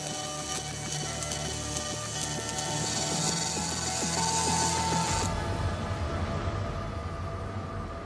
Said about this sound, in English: The robot works out the most efficient route and runs the program.